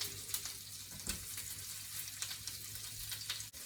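Steak searing in a pan with melted butter, giving a loud, continuous close-up sizzle with crackling bursts throughout.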